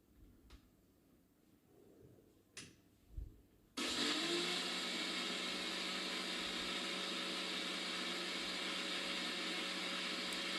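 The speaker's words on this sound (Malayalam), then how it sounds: "എന്നിട്ട് മിക്സിയിൽ തരിയോടെ കൂടി അരക്കാൻ ശ്രമിക്കുക" Handling clicks and bumps give way to a mixer grinder that switches on and runs in a loud, steady whine, grinding soaked urad dal with its soaking water into coarse Kerala-style idli batter.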